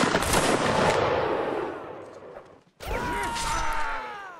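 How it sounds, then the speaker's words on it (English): Musket volleys in Mount & Blade: Napoleonic Wars crackle as a dense rolling burst of gunfire that fades out, then after a brief gap a second loud ragged volley with ringing tails follows. "Where are they firing from? That one's firing."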